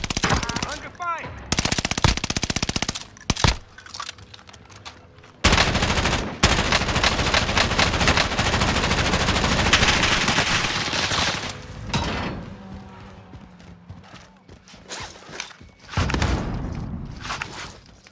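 Dense gunfire in Call of Duty: Modern Warfare, loud bursts of automatic fire stacked on one another with brief gaps and thumps, close and nearly continuous, with no one speaking.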